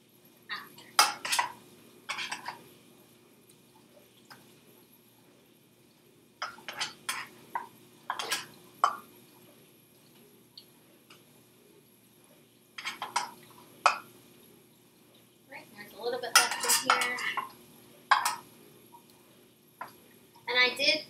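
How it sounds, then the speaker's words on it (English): Broccoli scooped out of a pot into small bowls, with scattered scrapes and clinks of a utensil against cookware coming in short bursts and one busier stretch, close by, while a person talks over parts of it. "Now we're gonna scoop the broccoli into the little bowls"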